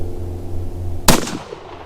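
A single sharp gunshot firing an FMJ bullet at a target 50 yards away outdoors, one loud crack about midway with a short decaying echo over a steady low background hum.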